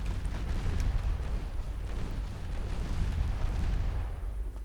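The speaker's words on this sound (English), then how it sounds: "the torpedoes launch against that light cruiser already now, before the torpedoes blow up." Torpedoes detonate against a light cruiser in the naval combat game Ultimate Admiral Dreadnoughts. A continuous low rumbling roar of explosions and distant gunfire swells and fades at moderate volume over several seconds.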